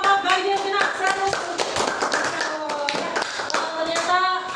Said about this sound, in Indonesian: tepuk tangan untuk kelompok ganjil genap 100